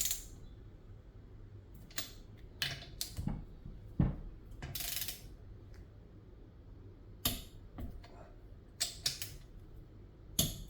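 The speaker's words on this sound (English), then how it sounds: "Now these all get torqued to 18 foot-pounds." Torque wrench ratcheting as cylinder head bolts are tightened to 18 foot-pounds on a half VW engine build, quiet bursts of clicking with pauses between bolts, plus a few louder clacks and handling noises.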